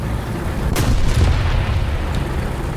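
Tank cannon firing in War Thunder, a single heavy boom with a sharp crack then a rumbling decay, followed by a fainter distant report, all over a low continuous engine rumble.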